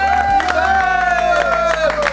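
Students in a mobile repair training institute clap in a quick, rhythmic patter, with a strong sustained voice-like tone and crowd noise over it.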